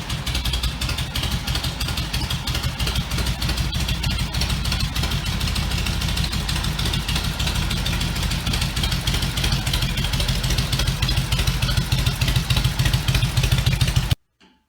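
A kick-started vintage Indian motorcycle engine runs loud and steady with a rough, clattering idle, then cuts off abruptly at the very end.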